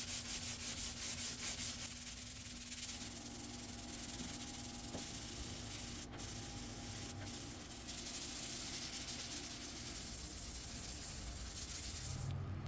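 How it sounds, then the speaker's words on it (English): A sanding block rubs steadily across a primed rear quarter panel of a three-stage pearl white Tesla Model 3, a continuous close, gritty hiss with slight shifts in pressure and no talk. "done block sanding the quarter"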